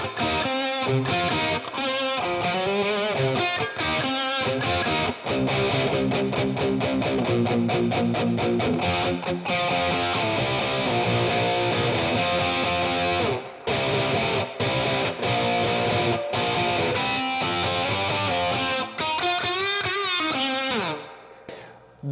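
Electric guitar with heavy distortion plays a loud, continuous run of chords and sustained notes, thick and saturated, fading out near the end.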